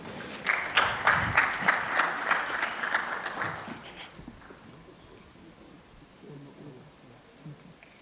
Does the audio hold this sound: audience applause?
yes